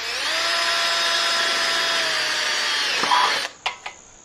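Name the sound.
power drill drilling hole in bracket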